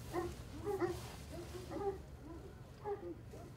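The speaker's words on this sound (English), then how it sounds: "See, now you can hear the dogs barking." Dogs bark repeatedly in short bursts at a distance, faint over a low steady background hum.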